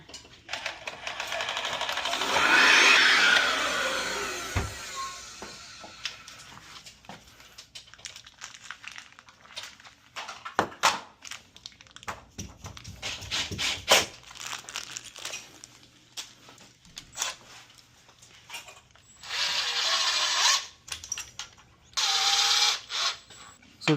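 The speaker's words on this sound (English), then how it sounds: "Maybe I'll drill it real quick and I'll put it back." Power drill boring into a toilet stall head rail during an ASI single-stall partition install, a gritty whirring burst early on, then scattered clicks and handling knocks, and two further short drilling runs near the end.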